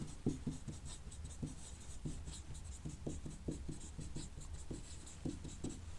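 Pen scratching out lecture notes on a board or page during a biology class, with short irregular strokes and taps repeating steadily, close and fairly quiet, with no talking.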